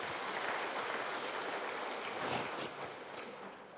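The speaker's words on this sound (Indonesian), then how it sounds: "Beri tepuk tangan dulu buat Tuhan kita." A congregation at a GKI church service in Indonesia claps together, a fairly faint sustained patter of hands that thins out toward the end.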